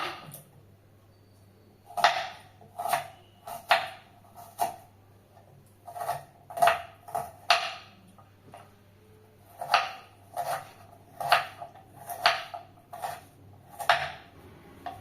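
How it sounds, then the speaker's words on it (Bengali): Onions chopped with a knife on a board for a Lay's Kurkure chaat, giving a close, crisp series of taps in uneven bursts and pauses. "পেঁয়াজ কেটে নেব।"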